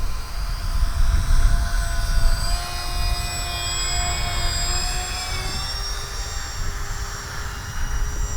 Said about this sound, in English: What a good, stable flying plane.